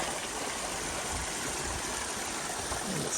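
A small waterfall at a lake outlet in Idaho's Pioneer Mountains, the stream pouring through a rock crack in a steady, even rush of water, close and continuous with no voices.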